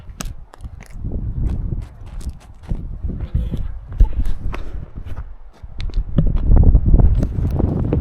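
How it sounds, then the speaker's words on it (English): Cold, gusty wind buffets the microphone in low rumbling bursts at Dinosaur National Monument in Colorado, mixed with scattered crunching footsteps on rough ground. "Just windy and cold and beautiful."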